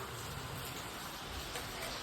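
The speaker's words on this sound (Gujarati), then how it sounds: "ઝરમર ઝરમર ઝરમર શરૂ ને શરૂ જ છે" Light drizzle falling steadily in a village, a soft, even hiss of fine rain with no voices, quiet and continuous throughout.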